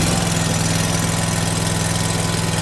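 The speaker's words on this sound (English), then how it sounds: "So ignition on, a little bit of throttle, PTO off." A Scag V Ride II stand-on lawn mower engine idles just after ignition with a little throttle and the PTO off, a loud, steady, close low rumble running alone throughout.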